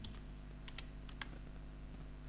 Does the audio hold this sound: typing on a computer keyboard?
yes